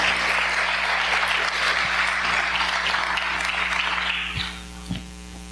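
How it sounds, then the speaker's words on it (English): A steady wave of audience applause welcoming a pastor at a Southern Baptist church gathering, full and continuous for about four seconds before cutting off abruptly, leaving a faint hum behind. "Give another round of applause for Pastor Danny Forshee"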